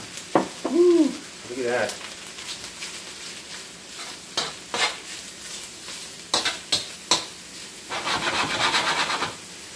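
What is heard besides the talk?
beef stir-frying in a hot wok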